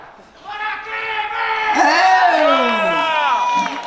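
A crowd at a literary gathering shouts a protest chant in unison, the voices rising together into a loud sustained call with whoops and overlapping shouts after a short quieter start.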